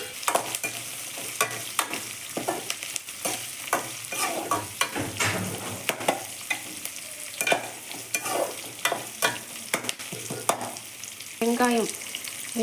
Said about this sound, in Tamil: ஒரு பெரிய வெங்காயம் கட் பண்ணியிருக்கேன். கருவேப்பிலை, பச்சை மிளகாய் 2. இதை வதக்கிக்கலாங்க நல்லா.